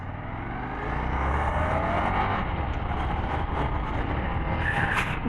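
Indian Scout 101 motorcycle with a Toce exhaust accelerating hard, a loud steady engine roar that swells after the first second and holds, with wind rush over the top and no talk.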